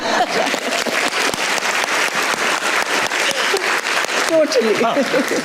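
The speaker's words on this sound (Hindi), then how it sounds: "आपकी कुलीग अतीका उठो के लिए एक बार तालियां होंगी" A television comedy talk show's studio audience applauds with a dense, loud patter of clapping, while a voice talks over it near the end.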